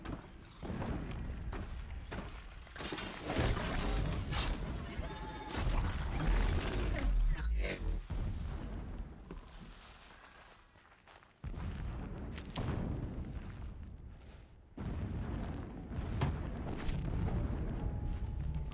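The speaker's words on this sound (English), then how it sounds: "There's a lot of explosions going on." Heavy explosions and rumbling impacts in the video game Horizon Zero Dawn, loud and dense, with repeated booming bursts and a clattering mechanical texture, a brief dip in the middle before the blasts resume.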